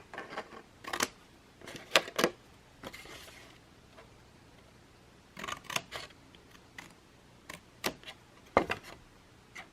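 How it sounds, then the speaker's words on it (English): Scissors or a trimmer cut through a paper card box lid in short, crisp bursts of snipping and paper rustle, close by and fairly quiet, with pauses between cuts. "go ahead and cut this the same way you did the bottom part"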